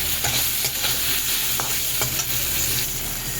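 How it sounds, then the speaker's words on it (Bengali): Paneer pieces fry in hot oil with a steady close sizzle and crackle, dotted with brief sharp pops, and no voices over it. "এবার একে একে পনিরগুলো আমি তেলের মধ্যে ছেড়ে দেব"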